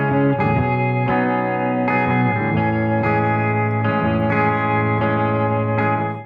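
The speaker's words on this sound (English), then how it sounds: "Nice reverb and tremolo on there to create a subtle sense of wideness" Layered electric guitar chords drenched in reverb with a tremolo wobble, sustained and full for several seconds without any voice.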